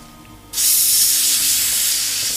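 Airbrush spraying during cleaning gives a steady, close, bright hiss that starts abruptly after a quiet moment and holds evenly to the end.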